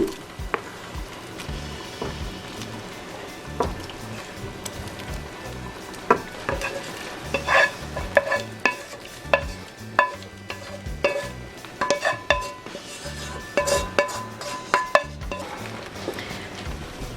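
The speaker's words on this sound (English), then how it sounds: "And now I'm just going to mix that into my cheese sauce." Shrimp being stirred into a cheese sauce in a pot for rasta pasta, a steady soft bubbling sizzle broken by repeated scraping and clinking strokes of a spoon against the pot, close and moderately loud.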